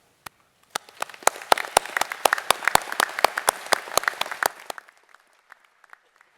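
Scattered audience clapping at a Massey University graduation ceremony, sharp distinct claps from a fairly small group that swell into a lively patter, then drop off to a few faint, isolated claps.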